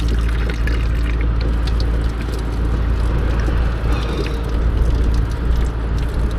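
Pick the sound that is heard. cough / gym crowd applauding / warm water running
warm water running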